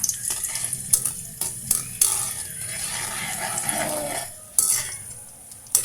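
Garlic frying in a pan while peanuts are cooked, with a steady close sizzle broken by metal spoon scrapes and clinks against the pan, no voices.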